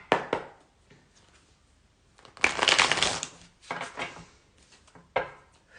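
A tarot deck is shuffled by hand close up: loud riffling, rustling bursts come in uneven spurts with short pauses between them, including one longer, dense shuffle in the middle.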